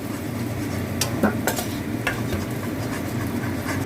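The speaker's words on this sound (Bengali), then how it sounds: "এই সেদ্ধ আলুটা আমি ভেজে নেব" Boiled potato frying in hot oil, heard as a close, continuous sizzling hiss with a few sharp utensil clinks and stirring taps, with no voices.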